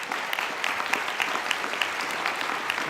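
Applause from a summit audience at a lunch presentation: steady, moderately distant clapping from many hands that holds evenly without cheering.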